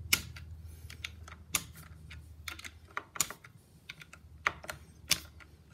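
A wrench loosens 10mm bolts on a Harley-Davidson Dyna Super Glide, giving a sparse series of sharp metallic clicks and ticks at irregular intervals, close and fairly quiet.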